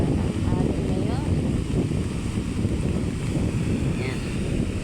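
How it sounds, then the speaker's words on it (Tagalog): Strong sea waves roll and crash along a shore in heavy wind, a dense continuous roar of surf and wind noise. A voice is briefly heard over it. "Lakas ng alon."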